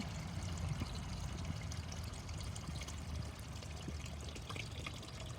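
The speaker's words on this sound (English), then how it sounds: "Carefully pour them all into their new home." Water carrying tadpoles pours steadily into a container with a continuous splashing, trickling rush from start to finish, close by and fairly even in level.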